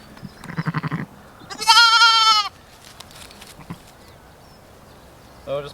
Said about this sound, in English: So I'll just nab the lambs there.